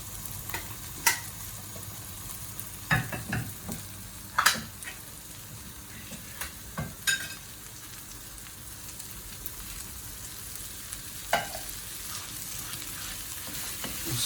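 Tinned tomatoes are stirred into a sizzling mutton chukka, giving a steady low sizzle broken by sharp scraping knocks of a spoon against the pan every second or two.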